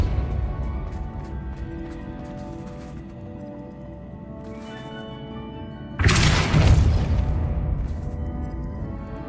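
A Depulso spell in the Hogwarts Legacy video game fires as a sudden loud, noisy blast that cuts through quieter game ambience and lingers as a rushing burst for a few seconds.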